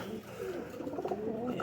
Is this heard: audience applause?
no